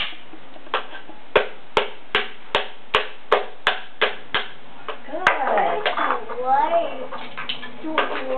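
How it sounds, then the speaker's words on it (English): About ten sharp, evenly spaced hammer strikes drive a nail down into wood, loud and close, followed by a child's and an adult's voices talking. "You put this in here, and then you pound them. Goes down into the wood."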